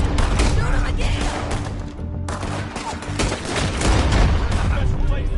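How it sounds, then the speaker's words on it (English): A dense, loud volley of gunfire from Red Dead Redemption 2, with rapid overlapping shots and booms that go on almost without pause. A voice talks now and then underneath the noise. "Shoot him again!"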